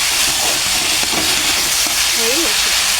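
Fish frying in a pan gives a loud, steady sizzle that fills the whole stretch, with a few faint clinks and stirring touches and no talk.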